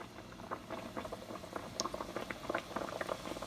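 Dough frying in a pan, a steady bubbling sizzle with dense crackling pops that stays close and even throughout, with no voices.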